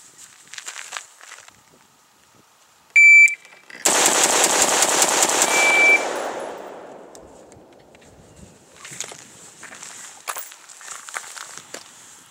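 A handgun fires about nine rapid shots in roughly two and a half seconds during a VTac half and half shooting drill, a loud close burst that rings out and echoes away, with faint rustling and movement before and after.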